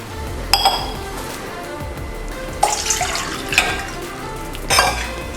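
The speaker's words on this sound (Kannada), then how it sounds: "ಸೊ ಫಸ್ಟು ಒಂದು ಬಾಣಲಿ ಇಟ್ಬಿಟ್ಟು ಅದಕ್ಕೆ ಸ್ವಲ್ಪ ನೀರು ಹಾಕೊಳ್ಳೋಣ" A metal cooking pan is set down with sharp clinks, then water is poured into it, splashing in short bursts between further clatters, near and alone.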